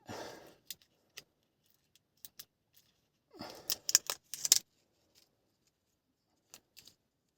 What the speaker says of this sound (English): So I'll just take it out of the cellophane.